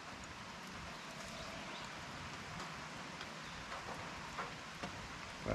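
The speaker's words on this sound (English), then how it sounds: "It's starting to rain again, that's lovely." Light rain begins falling outdoors during work on a Jeep Wrangler axle, a soft, even patter with faint scattered drops and a small knock near the end.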